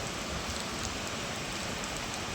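Heavy cyclone rain pours steadily in Machilipatnam, a dense, unbroken hiss of downpour on surfaces with no voices.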